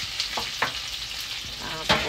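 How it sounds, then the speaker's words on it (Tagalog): Garlic and onion sizzling in a hot pan for alogbate, a soft steady fry with a few scraping stir strokes, quiet and close with no talking. "nagigisa ako ng bawang, sibuyas,"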